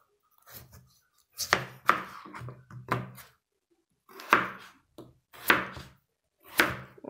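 A knife chops a potato into cubes on a cutting board, a handful of separate thuds spaced irregularly, close and clear, with silence between them and no talking.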